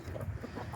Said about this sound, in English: It's time to let the hens out this morning.